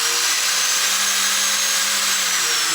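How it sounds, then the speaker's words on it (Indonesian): A 400 watt angle grinder runs steadily with a high, even whine, loud and close, and no voices over it. "Kita tes lagi dengan gerinda ini yang 400 watt."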